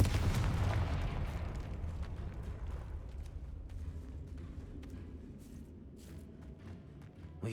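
A Confringo fire spell bursts in the Hogwarts Legacy video game, a deep rumbling blast that swells at once and then slowly decays into a crackling, fading tail with no voices.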